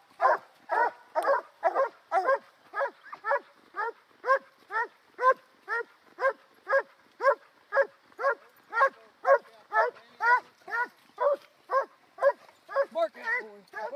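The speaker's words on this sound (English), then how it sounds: "Bark out, boy. Bark out." A dog barks on command in a steady rhythmic series of about thirty sharp, evenly spaced barks, loud and close, with a few quicker, higher yips near the end.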